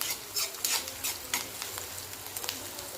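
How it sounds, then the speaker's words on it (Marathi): Cut onion and curry leaves fry in oil for a bitter gourd dish, a quiet close crackling sizzle with bursts of spitting and light stirring, no voices over it. "आता हे तेलामध्ये टाकून घेऊया थोडासा कढीपत्ता पण टाकूया कांदा छान कलर बदलेपर्यंत भाजून घ्यायचा आहे"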